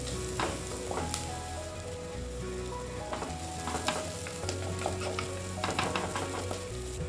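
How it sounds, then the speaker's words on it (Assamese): Onions fry on a medium flame in a pan, giving a steady close sizzle with repeated scraping and stirring clicks throughout, and no voices. "এইখিনি এতিয়া মিডিয়াম ফ্লেমত ফ্ৰাই কৰিম মই গল্ডেন ব্ৰাউন হোৱালৈ মই ফ্ৰাই কৰিম"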